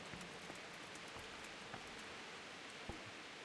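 Rain falling in Kingdom Come Deliverance, the medieval video game: a faint, steady hiss of rainfall with scattered soft drips and patters, heard alone.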